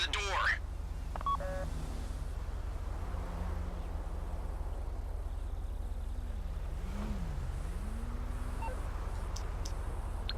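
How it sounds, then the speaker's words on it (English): Phone keypad tones dial at the start to trigger a vault door during a bank heist video game, then give way to a constant engine-like drone with a faint wavering tone. "Take out your phone and trigger the door."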